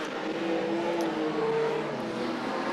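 Modified sedan race cars roar down the back straight of Murray Bridge Speedway during an Australian title heat, engines droning steadily at a distance with a sustained revving whine.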